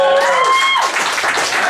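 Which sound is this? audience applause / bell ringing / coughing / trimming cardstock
audience applause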